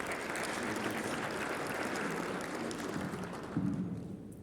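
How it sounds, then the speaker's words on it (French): Steady applause from a conference audience at an insurance-sector event on women in the industry, a dense, even clatter of many hands lasting throughout with no voices over it. "je pense qu'on peut l'applaudir et applaudir le travail que vous avez fait"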